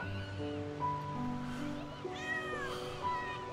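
A kitten gives several short, rising meows, close and fairly clear, with people talking around it.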